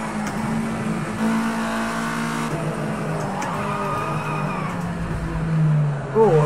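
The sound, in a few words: race car engine downshifting in video game Project CARS 2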